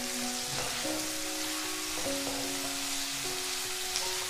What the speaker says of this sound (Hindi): प्याज को भूनेंगे